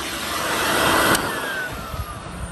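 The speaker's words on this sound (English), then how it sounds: "You know how a Hoover works, I think, but you know, I'll just demonstrate." A Filterqueen Majestic 231UK vacuum cleaner runs with a steady, loud broadband rushing whine, close up and alone, with a slight swell and dip in level.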